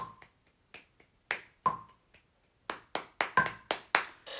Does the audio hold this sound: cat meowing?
no